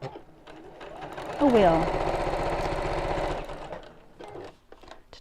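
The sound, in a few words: sewing machine stitching a cushion cover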